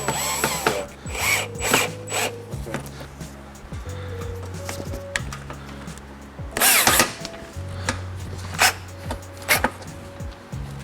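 Bolts securing a fender liner on a third-generation Toyota Tundra are driven in with a power tool: several short, close whirring bursts with ratcheting clicks between them, over quiet background music.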